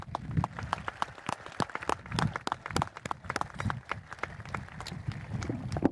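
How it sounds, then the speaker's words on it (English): A graduation crowd applauds at a 2022 ceremony, with steady clapping from many hands that is moderately distant and fairly quiet. "give your graduate a round of applause they deserve"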